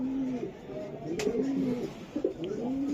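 A four-finger female racing pigeon coos in soft, low repeated phrases close by, with faint background noise.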